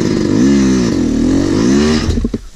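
A dirt bike motorcycle engine revving hard on a private jump track, close and loud with a rising and falling pitch, then dropping off into rattling at the end.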